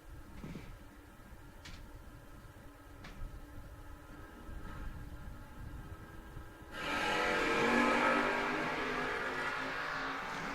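A West Virginia Camaro and a Mustang launching at a drag strip: a quiet idle rumble with a few clicks, then a sudden loud, sustained roar of engines at full throttle that holds to the end.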